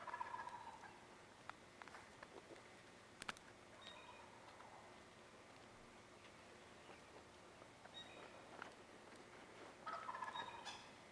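A wild turkey longbeard gobbles at dawn in spring woods, its rattling calls repeating at a distance over faint ambient noise, with a few sharp clicks scattered between them.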